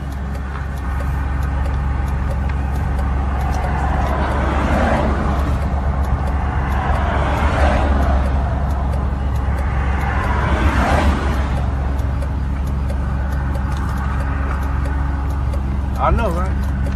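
Steady low rumble and road noise inside a car cruising on a highway, constant throughout with people talking over it.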